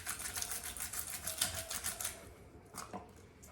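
Garlic cloves are peeled in a garlic peeler for a green tomato salsa verde, making a quiet, close, rapid rattling clatter for about two seconds, then a few faint taps.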